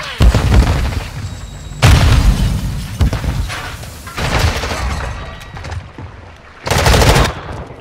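Heavy gunfire in a ranked Call of Duty: Modern Warfare II match, loud bursts of automatic fire and sharp shots recurring across the stretch with booming impacts in between.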